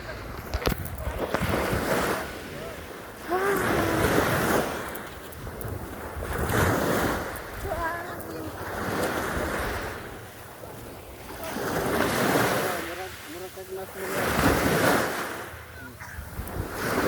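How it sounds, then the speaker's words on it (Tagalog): Ocean waves roll in and wash over a tropical island shore in repeated surges, with gusting wind buffeting the microphone and faint voices underneath. "nakarating na kami dito sa dagat. Super ganda guys, as in amaze talaga ako sa dagat na to"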